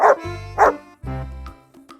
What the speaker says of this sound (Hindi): यह है डॉग। डॉग को हिंदी में कुत्ता कहते हैं।